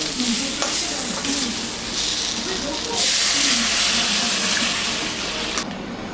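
Water poured into fried spice paste in a pan for a fish-head and potato curry hisses and sizzles loudly and continuously, with stirring and splashing throughout.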